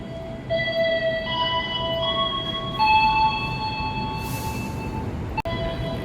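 The Anggrek passenger train on the Jakarta–Surabaya run departs a station, with sustained whistle-like tonal tones over a steady rolling rumble and a sharp click near the end.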